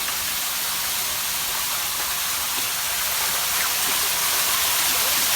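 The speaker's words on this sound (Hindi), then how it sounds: "ये जो चरख है सामने, इस पे पानी गिरता है जब जोर से" Strong, steady rush of water pouring onto the wheel of a traditional mountain watermill in Hazara in November, a loud continuous broadband roar that holds unbroken throughout with no talking.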